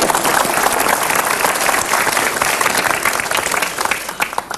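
An audience at a motivational seminar claps in loud, sustained applause for several seconds, a dense, steady roar of many hands with no talking over it.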